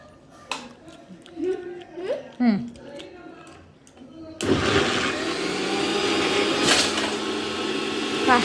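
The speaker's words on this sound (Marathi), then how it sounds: "आता याच्यामध्ये द्राक्ष टाकलेत वापस. मोठे मोठे द्राक्ष. मी मिक्सरला लावू का?" A kitchen mixer-blender starts up partway through, grinding large grapes with ripe sapodilla into a loud, steady whir. Voices and small clattering noises come before it begins.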